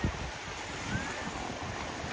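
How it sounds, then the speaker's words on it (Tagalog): Big ocean waves off Siargao during a typhoon make a broad, steady roar of surf mixed with wind buffeting the microphone, with a couple of low thumps near the start. "Malalaki ang alon dito sa tabi-tabi lang."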